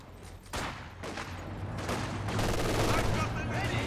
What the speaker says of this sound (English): LMG popping on these grenadiers now